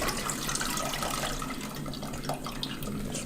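Water pours out of soaked potatoes into a colander set over a bowl, a steady hissing rush with splashing that runs unbroken and close throughout.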